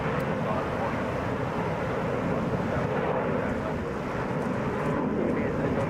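A Delta Boeing 717 takes off from Atlanta's Hartsfield-Jackson airport, its engines a steady, broad roar heard from a distance with wind buffeting the microphone throughout.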